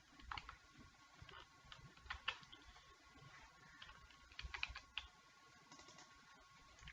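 Numbers typed on a computer keyboard, faint close key clicks tapping in small irregular bursts over a quiet room background, with no talk.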